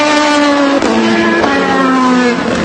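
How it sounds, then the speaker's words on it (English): Porsche race cars circle a track on Porsche Night, engines loud and close with a continuous high whine that shifts pitch as they accelerate and pass, with no voices. "Cars going around the circuit. Really fast."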